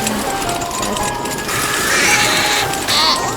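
A ram bleats in the Rayman Raving Rabbids 2 video game over a busy, continuous layer of game sounds and music, loud and fairly close.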